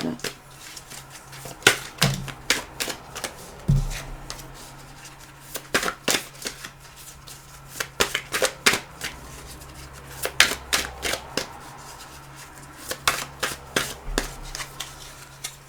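Oracle cards are shuffled and drawn for a three-card reading: soft riffling and sharp card snaps come in uneven bursts while someone talks throughout.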